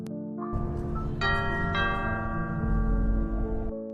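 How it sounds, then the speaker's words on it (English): A bell-like electronic chime rings in a few stepped tones over a low steady hum, sustained for several seconds. "The person gets out of the car and rings the doorbell."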